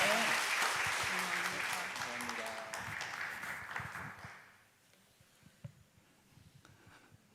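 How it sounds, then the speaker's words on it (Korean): A Korean church congregation in Detroit claps loudly in steady applause during a Sunday service blessing for an infant; the clapping fills the room, then thins out and fades to quiet after about four seconds. "우리 큰 박수로 축복하겠습니다."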